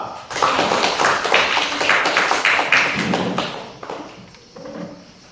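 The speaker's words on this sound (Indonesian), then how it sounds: "Tepuk tangan untuk kelompok dua." A classroom group claps for a few seconds, dense and close, then the applause thins out and fades.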